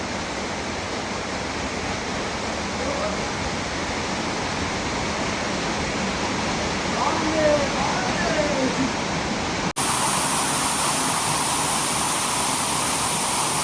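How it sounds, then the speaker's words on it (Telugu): A waterfall in the Garden of Caves at Cherrapunji, Meghalaya, roars as a steady broadband rush of falling water, close and continuous, with a brief click near the end before the roar carries on slightly brighter. "ఈ వాటర్ ఫాల్ చూడండి ఒకసారి."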